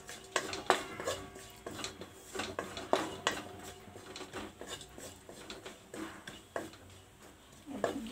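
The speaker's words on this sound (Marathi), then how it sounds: "हे आपण काजू बदामाची पावडर आहे ना थोडीशी परतून घेऊ" Cashew and almond powder being stirred and roasted in a pan over a low flame, with a utensil scraping and clinking against the metal in irregular, fairly quiet strokes, no talking.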